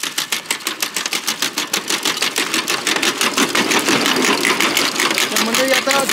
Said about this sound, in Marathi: हे मशीन आता तुम्हाला चालून दाखवतो बा